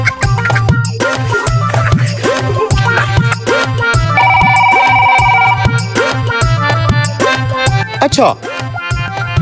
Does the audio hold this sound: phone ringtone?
yes